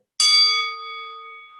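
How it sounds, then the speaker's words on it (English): A single bright bell strike rings out clearly and then fades away slowly with a lingering metallic tone. "I have to ring the bell for this"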